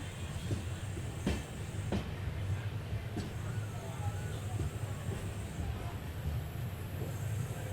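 A train runs through a station on a cleared line, heard as a steady low rumble with hiss and occasional sharp clicks at a moderate distance.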